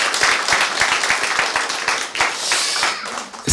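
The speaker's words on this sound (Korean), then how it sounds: "자, 우리 박수 한번 치겠습니다." A church congregation claps together after a closing prayer, a dense, steady round of applause filling the room with rapid overlapping hand claps that carries on without a break.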